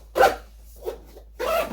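Zipper on a small compartment of a gear pack pulled in three short, close raspy strokes with brief pauses between them.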